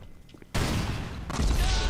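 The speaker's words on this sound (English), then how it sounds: "Judging from the gunshots, they have seen you." Video game gunfire erupts suddenly as a dense, continuous roar of shots, loud and close, intensifying further partway through with heavy low-end booms.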